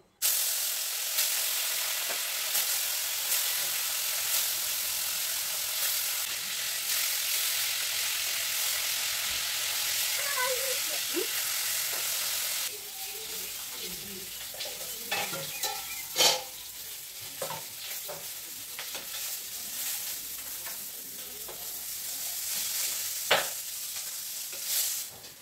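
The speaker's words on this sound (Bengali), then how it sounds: "মাছগুলো ভেজে নিব ভালো করে।" Fish rubbed with salt and turmeric fry in a pan with a long, even sizzle, later joined by scattered clicks and scrapes of a spatula turning the pieces.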